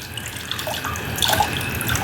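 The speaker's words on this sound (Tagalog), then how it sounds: "Itong tumutulong tubig na to galing sa gripo" Water drips and trickles from a tap into a backyard tilapia tank that has no aerator, a close, light patter of drops over a soft running-water wash.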